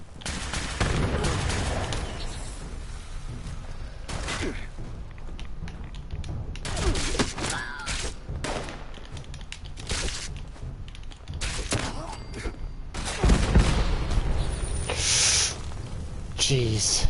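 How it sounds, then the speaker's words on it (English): Gunfire rattles in repeated bursts with heavy booms and an explosion in the video game Fallout 76, loud and dense across the stretch with a person talking intermittently over it. "An explosion went off."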